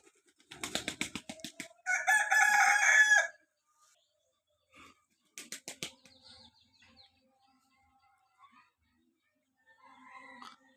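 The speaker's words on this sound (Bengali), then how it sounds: "মোরগ দেখেন কোথায় উঠছে" A rooster perched on a house roof crows loudly and clearly in a village setting, preceded by a run of clucking calls, with a few fainter calls and bird chirps afterward against near silence.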